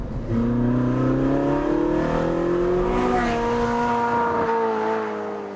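Ferrari 458 Spider V8 howling through its exhaust, a loud, close, sustained rev with pitch climbing smoothly, shifting and climbing again before easing off at the end.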